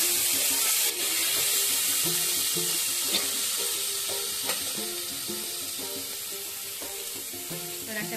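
Fish steadily sizzling and frying in hot oil in a pan, a loud continuous crackle with occasional faint clinks, no voices.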